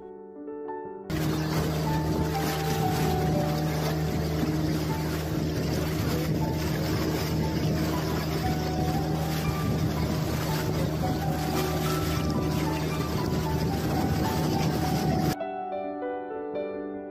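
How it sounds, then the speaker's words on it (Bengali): A tourist boat on the sea off Goa near Dona Paula gives a loud, steady engine drone with water rush. It holds evenly throughout, then stops abruptly near the end. "এর মাঝখানে আমরা উপভোগ করলাম আমাদের বোট রাইডিং আর অপূর্ব সামুদ্রিক শোভা।"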